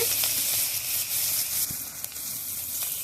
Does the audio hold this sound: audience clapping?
no